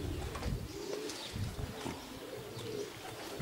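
Racing pigeons coo softly and repeatedly in the background, with low murmuring calls and an occasional faint chirp.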